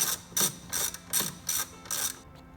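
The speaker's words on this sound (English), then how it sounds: "use your 10mm and your 3/8 ratchet and remove the 10mm that connects this carbon fiber brace to the coolant reservoir" A 3/8-inch ratchet clicks as it backs out a 10mm bolt holding a carbon fiber brace to the coolant reservoir in a BMW M3/M4 engine bay, heard as six crisp bursts of ratcheting spaced evenly, close and fairly quiet, with no talk.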